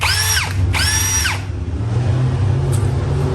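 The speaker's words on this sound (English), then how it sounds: "Drill very carefully." Two quick bursts of a power drill whining up to speed and winding down while drilling aluminum in grease at the slowest speed, then a lingering low hum with no talk.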